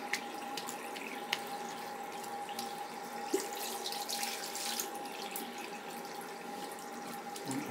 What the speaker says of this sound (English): Rinse off with the cold water.